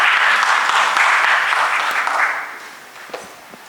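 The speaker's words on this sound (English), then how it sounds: "A big round of applause for Dr." Applause from an audience at a medical conference, a dense burst of clapping that rings out strongly, then thins and fades over the last second.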